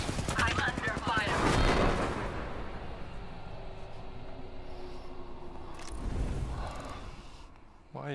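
Video game gunfire crackles in rapid bursts early on, then thins into scattered shots and a sustained background rumble, with a second burst of fire near the end.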